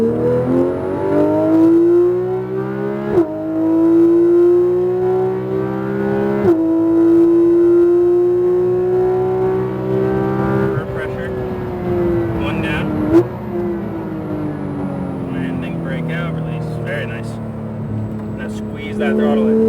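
A Porsche GT3 RS lapping a track at Speed Vegas, its engine note climbing steadily under throttle, then dropping with quick downshifts under braking before pulling again, loud and close throughout.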